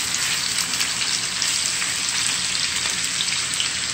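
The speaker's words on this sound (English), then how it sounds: "You hear that sizzle?" Steady, loud sizzling of turkey wings frying in a pan, a continuous crackling hiss with no voices.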